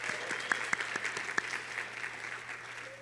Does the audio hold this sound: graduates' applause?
yes